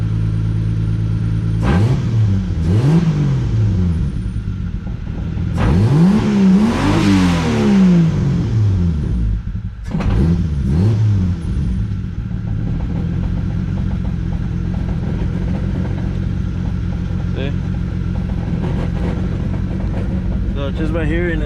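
A Toyota Supra MKIV engine idles loudly and revs up and down in rising, falling sweeps, with a steady underlying drone and a suspected clutch fault, while someone talks over it.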